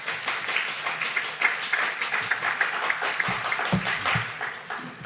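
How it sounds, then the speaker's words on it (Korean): A chapel service audience at a Korean university claps warmly and continuously to welcome a pastor, a fast patter of many hands, with a few faint voices near the end. "목사님 나오실 때 큰 박수로 환영하겠습니다"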